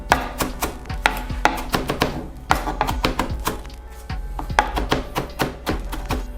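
A knife chops cilantro on a cutting board for chimichurri, giving a quick run of sharp thunks in an uneven rhythm, close and clear, with short pauses between bursts.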